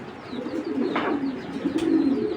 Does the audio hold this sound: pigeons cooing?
yes